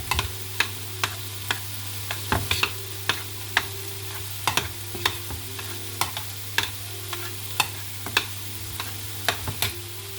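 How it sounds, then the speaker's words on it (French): A spoon stirs rice with spices in a cooking pan, giving regular scraping clicks about once a second over a steady low sizzle and hum, close and alone with no talk. "je mélange le riz avec les épices"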